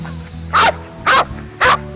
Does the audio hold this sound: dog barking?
yes